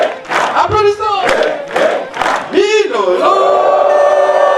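A church congregation at a thanksgiving celebration cheers and whoops loudly, with rising voiced shouts and yells in bursts that merge into a sustained crowd cry near the end.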